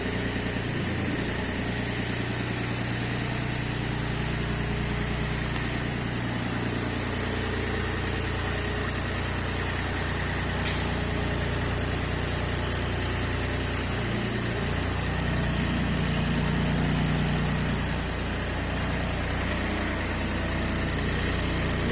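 A Mitsubishi MT1401 mini tractor engine runs steadily for the whole stretch, a close, loud, even mechanical drone with a slight dip in pitch partway through and no voices.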